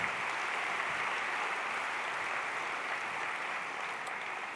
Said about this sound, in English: big round of applause for both the performers and our last speaker